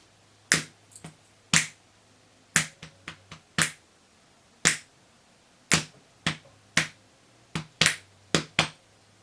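Finger snaps clapping out a rhythmic pattern for a dance lesson, a series of sharp close snaps in uneven groupings with short pauses between, over a faint low background hum.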